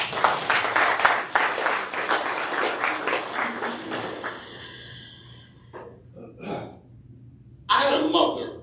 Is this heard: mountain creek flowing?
no